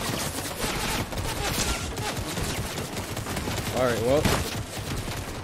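Gunfire rattles through a battle royale video game match in rapid bursts, steady and fairly loud beneath a player's brief spoken remarks.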